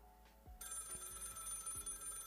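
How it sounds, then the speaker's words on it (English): A telephone rings in a quiet house at night, a bright sustained bell that starts after a brief hush and continues steadily, with low thumping tones underneath and no talking. "While the children are asleep at night and everything is quiet, the phone starts to ring."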